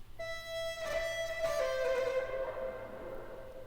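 A saxophone sample heavily treated with EQ, sample delay, a vocal plugin, distortion, a formant plugin and short and long reverbs sounds a sustained, gliding, buzzy tone that thickens and then trails off into a lingering reverb tail, moderately quiet.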